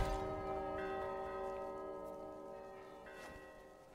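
A large bell rings once in the Gris video game, its rich, sustained tone slowly fading over several seconds with no talking.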